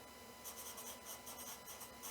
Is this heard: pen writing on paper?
yes